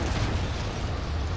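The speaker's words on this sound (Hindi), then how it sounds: "ये लो भाई एक और धमाका खतरनाक" A deep, rumbling blast fills the clip, loud and continuous with a crackling, debris-like texture: an explosion heard up close in a monster-versus-army war video game.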